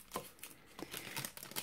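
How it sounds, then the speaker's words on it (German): A plastic bag being handled and crinkled up close during crafting, with soft, quiet rustles and crackles in irregular bursts. "Aber hier habe ich leider die Tüte zerschnitten."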